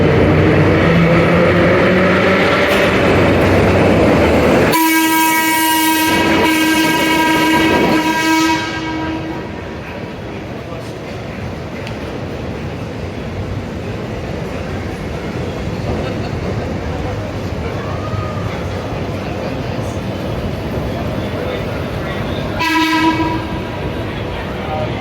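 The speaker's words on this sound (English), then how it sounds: "the historic 4000 series train from the Chicago Transit Authority" A historic CTA 4000 series train rumbles loudly around the Chicago Loop, with a steady wheel roar throughout and a sustained horn blast near the start plus a shorter horn toot near the end.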